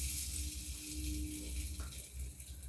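Hot mustard oil sizzling in a pan as salt goes in before frying pabda fish, a steady close hiss with soft crackle and no talk.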